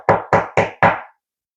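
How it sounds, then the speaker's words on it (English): Four firm knocks on a door in a steady, evenly spaced rhythm, close and loud, then silence. "And then somebody knocked on the door."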